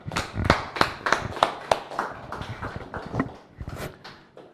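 Applause from a small audience at a pharmacy academy COVID-19 programme in Nigeria: sparse, uneven hand claps with distinct individual strikes, moderately near, fading and thinning out over several seconds.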